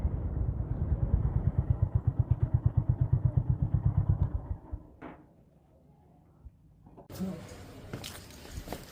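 A Honda CB350RS motorcycle's engine thumps in a loud, steady idle pulse for about four seconds, then cuts out, followed by a thud, quiet handling noises and a clatter as the bike is moved indoors.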